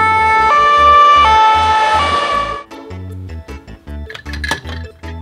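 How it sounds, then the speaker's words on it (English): A white toy ambulance plays its siren: a loud, close electronic tone stepping between pitches for a few seconds. It then gives way to softer clinks and handling sounds. "white ambulance."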